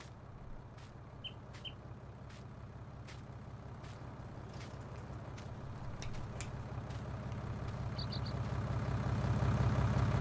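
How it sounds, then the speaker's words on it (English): A low, steady tractor engine rumble in Farming Simulator 19 idles throughout, slowly growing louder toward the end, with occasional faint clicks and a few high chirps. "there's such a good sound stage that the tractor actually sounds real"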